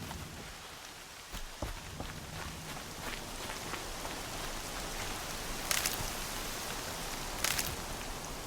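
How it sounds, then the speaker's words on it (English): Steady rain falls in the video game Horizon Zero Dawn as a dense, continuous hiss, with a couple of brief louder splashes or crackles standing out near the end. "And there's the rain."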